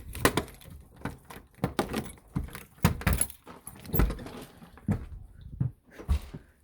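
A set of keys jangling at a shop door, with repeated irregular metallic rattles and clinks close to the mic, no talk.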